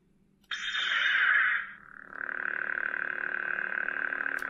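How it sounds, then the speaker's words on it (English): An Obi-Wan Kenobi Legacy Lightsaber toy from Galaxy's Edge powers on with a sudden loud electronic ignition burst that fades into a steady, close humming drone, with no voices. "listen to what it sounds like when you power it on."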